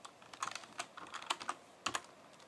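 Keys tapped on a laptop keyboard at a Linux command prompt, a few quick close, faint clicks in irregular bursts with short pauses between them.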